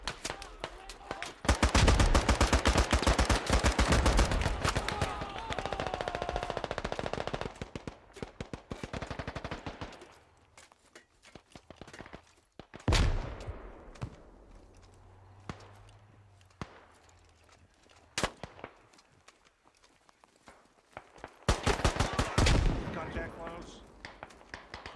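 Automatic rifle fire rattles loudly in a squad-based shooter game, long sustained bursts at the start, isolated sharp shots in the middle and another heavy burst near the end, with voices talking over parts of it.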